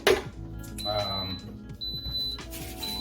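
Instant Pot pressure cooker sounding three short high electronic beeps as it switches on, spaced about a second apart, over kitchen background noise and low murmuring voices.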